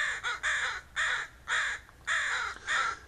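A young crow caws repeatedly to be fed, six harsh, loud, close calls in a regular rhythm with brief gaps between them.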